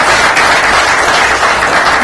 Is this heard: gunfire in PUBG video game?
no